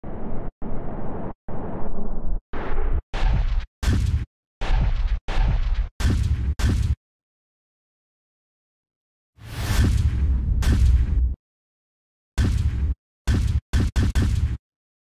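A sequence of short impact sound effects from the Cashmere Volume 3 sample pack: deep booms and bursts in a loose stop-start pattern, a longer hit in the middle, then quick clustered hits, with gaps of silence between them.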